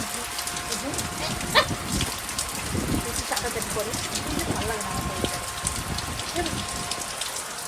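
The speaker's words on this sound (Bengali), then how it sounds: "এইখানে দাঁড়িয়ে দাঁড়িয়ে বৃষ্টিটা দেখো" Steady rain patters and drips on a surface close by, continuous and moderately loud, with voices faintly talking underneath.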